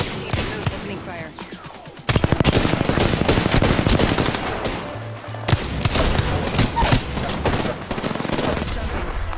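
Automatic weapon fire in the battle royale shooter Apex Legends, dense rapid bursts that run almost nonstop after a brief pause, loud and close, with game effects mixed in.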